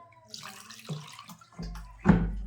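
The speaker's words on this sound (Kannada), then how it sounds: "ತಣ್ಣೀರು ಒಂದು ಸ್ವಲ್ಪ ಹಾಕಿ ನೀರು ಜಾನಾಗತ್ತೀನಿ" Cold water splashes over boiled potatoes, a short faint burst of pouring and trickling that swells into a brief louder gush near the end.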